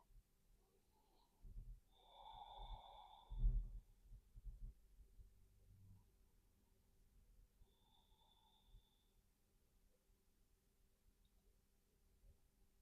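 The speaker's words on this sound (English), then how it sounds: "Just coming into your own rhythm of breathing." Two slow, soft breaths during a gentle yoga practice, several seconds apart, faint and close, with quiet stillness between them.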